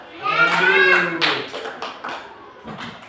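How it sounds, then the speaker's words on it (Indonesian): A group claps hands in a few uneven bursts, starting right after a voice calls out, close and lively. "Tepuk tangan dulu ya."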